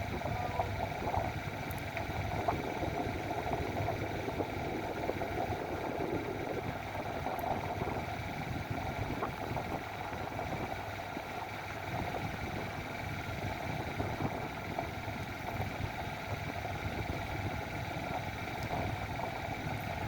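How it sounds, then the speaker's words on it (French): A boat's outboard motor runs steadily, a faint, even drone with some wind noise over it and no change in pace. "Le moteur tourne bien."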